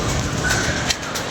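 A pigeon coos in a short, soft burst against a steady background of outdoor noise, with no one talking over it.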